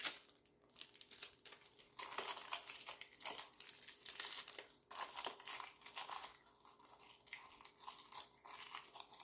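Tape unrolled and wrapped around a finger during resin cleanup: close, quiet crinkling and sticky peeling rustles running continuously with small bursts and pauses.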